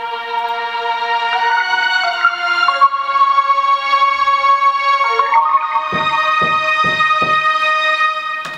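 Two layered string synth sounds playing the same chorus melody in a piano loop beat, sustained bright tones gliding between notes, with a few rhythmic percussive hits entering near the end.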